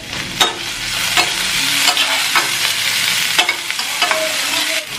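Chopped onion sizzles and fries in hot mustard oil in a pan, with steady crackling and several sharp stirring scrapes of a spatula throughout, close and alone.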